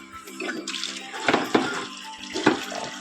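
Water runs and splashes as something is rinsed clean at a home sink, with a few louder splashes and bursts standing out over the steady flow.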